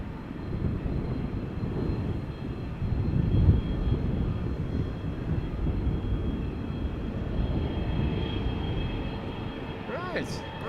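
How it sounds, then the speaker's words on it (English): A business jet departs Amsterdam Schiphol Airport, its steady broad engine roar holding loud and close for the whole stretch, with a faint rising whine near the end and low voices in the background. "Nice little biz jet."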